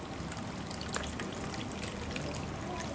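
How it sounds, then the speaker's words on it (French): A cocktail is poured into a martini-style glass as a faint, steady stream of liquid that runs evenly for a few seconds with no voices. "Vous versez ça dans un verre à cocktail type martini"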